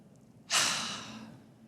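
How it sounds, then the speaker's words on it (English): A single deep, audible exhale sighs out close to the ear during a yoga session, breathy and soft, fading gradually. "take a few deep breaths"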